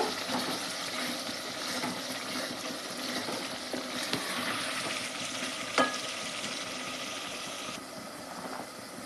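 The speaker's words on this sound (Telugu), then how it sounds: "నేను బీరకాయ ముక్కలు వేస్తాను ఇప్పుడు" Ridge gourd pieces go into a hot pan of spiced masala and cook with a steady sizzle, a sharp clatter of utensil against pan partway through, close by with no talking.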